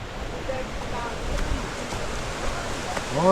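Water from the Thoovanam waterfall stream in Chinnar Wildlife Sanctuary rushes steadily in a broad, even wash, close and continuous, with a voice briefly heard near the end.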